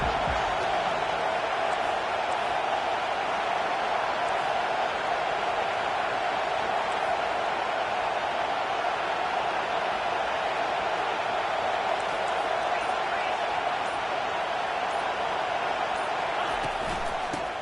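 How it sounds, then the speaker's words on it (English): A home football crowd roars on a third down, a dense, sustained wall of cheering and noise that holds at a steady, loud level from start to finish. "Here comes this home crowd as the defense tries to get off the field on 3rd down."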